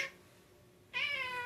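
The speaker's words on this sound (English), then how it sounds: "That's my cat meowing." A pet cat gives a faint meow, then a louder, clear, drawn-out meow close by, in a quiet room with no talking.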